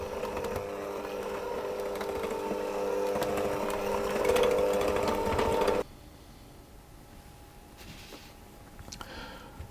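An electric mixer whirs steadily on low speed through Christmas cake batter with browned flour, running for several seconds with a slight rise before cutting off abruptly, leaving a quiet room with faint clinks.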